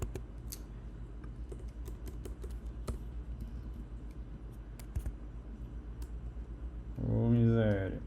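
Computer keyboard keys click in scattered, irregular taps while someone codes, fairly close, and a voice comes in briefly at the end.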